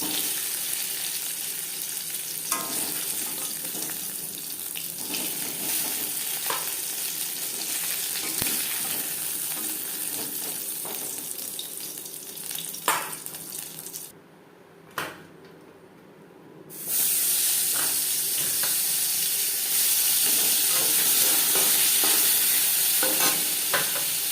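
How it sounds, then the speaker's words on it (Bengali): Shing fish sizzles and fries in a pan with a steady crackle, broken by clinks and stirring, a brief near-silent pause, then a louder, brighter sizzle resumes. "মাছ আমি হালকা করেই ভেজে নিয়েছি একটা পাত্রে"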